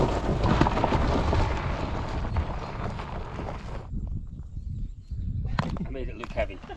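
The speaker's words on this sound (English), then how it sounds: "look at that rain coming in." A broad hiss of heavy rain pours steadily for several seconds, then cuts off, leaving scattered patters and faint knocks.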